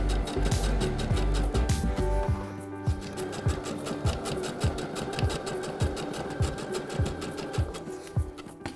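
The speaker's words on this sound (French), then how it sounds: "je vais passer à la machine pour piquer mon assemblage tout le long." A sewing machine stitches a skirt seam in rapid bursts, loud whirring runs with rhythmic needle clicks, pausing and restarting between stretches.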